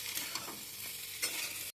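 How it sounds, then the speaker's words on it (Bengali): Cauliflower frying in a pan with onion, garlic and chili gives a steady close sizzle, broken by a few soft scrapes of stirring, with no voices. "এবার আমি ওই ফুলকপিগুলো দিয়ে দেবো, দিয়ে কিছুক্ষণ ভাজবো"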